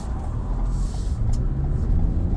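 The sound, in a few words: 2021 Toyota RAV4 TRD Off Road driving on city roads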